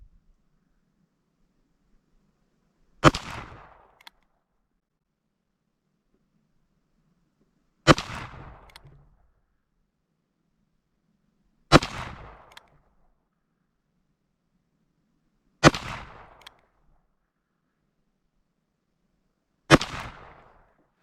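A Ruger Single-Six revolver fires .22 Magnum rounds: five loud, sharp reports spaced several seconds apart, each with a brief echoing tail and quiet between shots.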